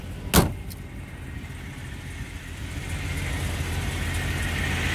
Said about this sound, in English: Motor's super quiet.